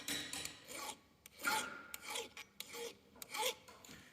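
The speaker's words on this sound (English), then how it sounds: "The file is just skating across it." Hand file rasping and skating over a hardened transmission countershaft from a Case 310G dozer, roughly eight short scraping strokes in an uneven rhythm, close and quiet, with no speech.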